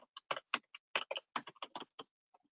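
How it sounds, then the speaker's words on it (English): Someone types a short value on a computer keyboard, about a dozen quick, crisp key clicks in an uneven burst followed by a couple of soft final taps, close and quiet. "So I'll just type that back in."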